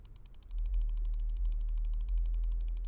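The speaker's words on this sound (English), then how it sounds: "Okay, that's too much clicking." Rapid, even mechanical clicking, like a ratchet, repeats steadily throughout over a low, constant hum.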